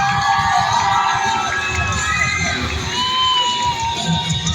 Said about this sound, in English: Let's get a little bit of noise going for the ramp riders.